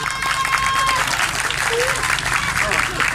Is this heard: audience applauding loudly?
yes